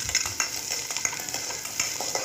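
Sprouted moong beans are lightly stir-fried in a pan, with a continuous soft sizzle and repeated close scraping strokes of a spatula in an uneven rhythm, without any talking.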